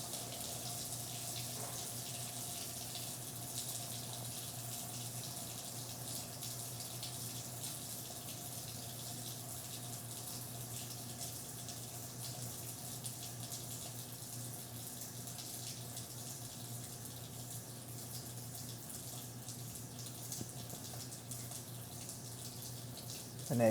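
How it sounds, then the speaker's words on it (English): A tap runs steadily into a drain as part of a DIY automatic water shutoff setup, a constant close hiss of flowing water that holds evenly for a long stretch before a brief sound at the very end. "so you can see the water going. It's getting slow, slow, slow, slow, slow, and it's cutting off."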